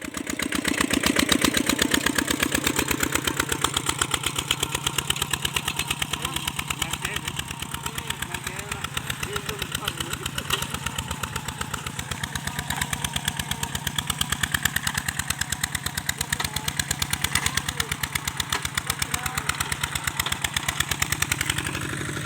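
A walking tractor engine revs hard while running dry without load, a loud close chugging drone with a rapid steady pulse that swells and eases slightly throughout.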